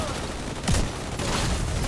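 Gunfire in a shooter video game, a dense, noisy stretch of shots and bursts with a heavier hit partway through, loud and continuous.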